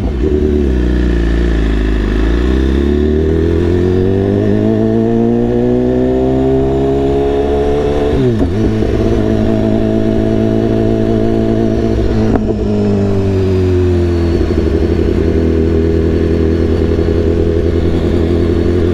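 A BMW S1000RR sport bike's engine pulls loud and close through the gears, pitch climbing steadily, dropping sharply at shifts and climbing again, with no talk over it.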